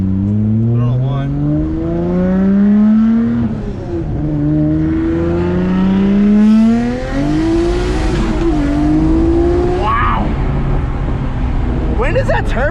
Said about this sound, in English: All right, let's go for a pull.